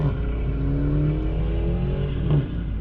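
A car running a 93 octane tune revs hard on its first drive, the engine pitch climbing steadily and loudly close by with a deep, throaty tone and no talk.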